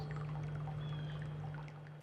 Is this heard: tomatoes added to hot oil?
no